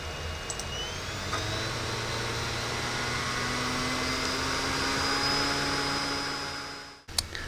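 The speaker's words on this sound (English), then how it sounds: "every time I click on something, the CD-ROM drive spins up because it's actually having to access it like a hard drive" A CD-ROM drive in a computer running the Slax Linux distro spins up when accessed, giving a close, steady whirring drone with a faint high whine for about seven seconds before cutting off abruptly.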